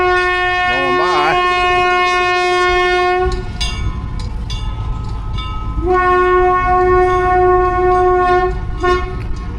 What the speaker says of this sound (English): There's the train going by.